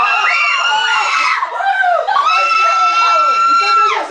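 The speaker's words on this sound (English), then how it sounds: "They screamed so high." Several people scream in fright, high-pitched and sustained, in two long loud bursts with a short break between them, close and intense, as a group.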